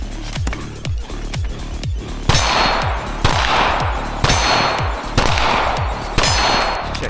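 AR-9 carbine fired outdoors at steel targets, sharp loud shots in a steady, unhurried string, each followed by a ringing metallic clang from the plates.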